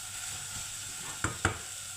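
Tomatoes softening in a pan for split chickpea curry sizzle quietly and steadily, with two short scraping knocks close together as they are stirred.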